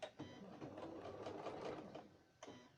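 A sewing machine running a straight stitch on a Christmas stocking, with a close, steady mechanical whirr of needle strokes that starts and stops briefly, and a faint voice underneath.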